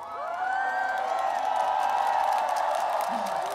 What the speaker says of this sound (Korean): 우리 홍콩 시민분들의 뜨거운 함성이